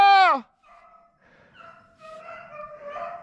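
A hunting dog on a rabbit hunt lets out one loud, close, drawn-out bay, followed by fainter, more distant yelping and whining from other dogs.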